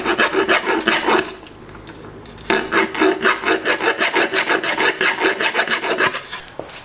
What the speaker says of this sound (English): Tried sawing it, tried filing it